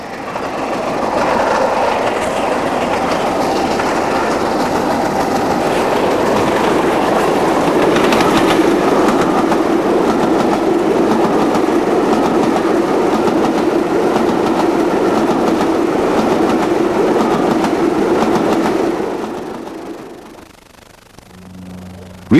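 A locomotive-hauled steam train on a diverted Carlisle run via Preston passes close by, a loud sustained rumble of wheels and rail clatter that holds steady for about nineteen seconds before quickly fading away.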